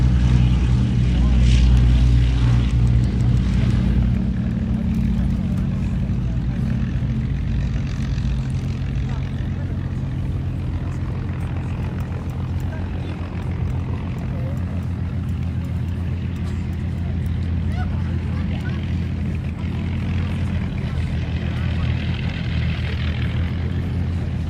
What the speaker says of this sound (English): it's the takeoff roll of our next display item, going slightly away from D-Day for the moment, but it's always tremendous to see the Bristol Blenheim 1F